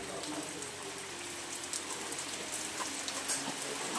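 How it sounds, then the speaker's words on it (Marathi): Heavy rain falls steadily as a dense, even wash of patter and drips, fairly faint and distant, with no other sounds. "धो धो पाऊस पडतोय दोन दिवस झाले"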